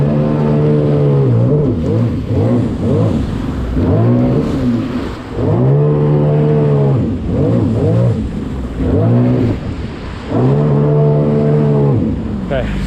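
A Sea-Doo Spark Trixx jet ski engine revs in repeated surging cycles as it spins on the water, loud and near, with a rhythmic rise and fall in pitch.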